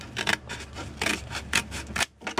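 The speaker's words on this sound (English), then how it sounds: "we can just hold this while we trim off this back edge here" Paper snips trim the back edge of a sheet of paper in a quick series of crisp cutting rasps, about six short strokes close up and unaccompanied.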